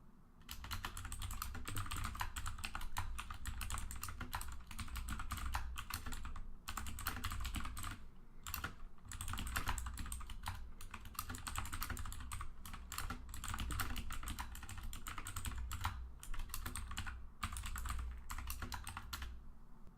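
Someone types code on a computer keyboard while writing a bitmap output function for a JPEG decoder. The keystrokes are rapid, close and continuous, with a few brief pauses, and no one speaks.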